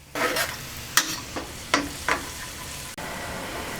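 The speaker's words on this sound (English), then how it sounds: "I'm going to add the minced garlic now." Minced garlic hitting softened, translucent onions in a pan for a blackberry marinara, a quick hiss followed by several short scraping stirs and a low continuous sizzle.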